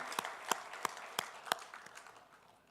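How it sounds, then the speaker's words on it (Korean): A congregation claps in a church service, a few sharp, spaced claps standing out over quieter scattered clapping that fades toward the end. "우리 박수로 격려하겠습니다."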